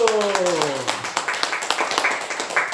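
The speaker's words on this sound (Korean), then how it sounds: "자, 잘했습니다. 박수!" Group clapping hands during a laughter therapy session after a wrestling-style exercise, a burst of sharp, fairly even claps that follows a voice sliding downward in pitch at the start.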